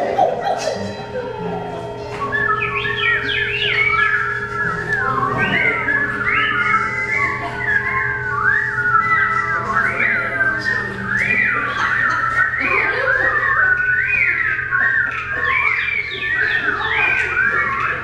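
Whippoorwill calls, or a close imitation of them, in repeated rising and falling whistled phrases over a steady low hum, carrying on for the whole stretch with a faint voice early on.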